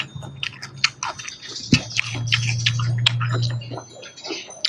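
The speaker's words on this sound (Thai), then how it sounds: "กินกับแตงอ่อนเข้ากันไหล" Close, wet chewing and crunching of a big tray of stir-fried holy basil eaten with crisp young cucumber, steady mouth sounds over a low background hum.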